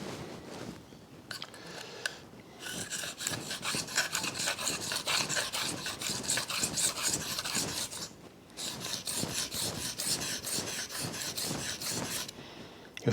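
A knife blade is drawn again and again across a sharpener, giving steady, close rasping strokes in a quick, even rhythm with brief pauses near the start and the end. No one speaks.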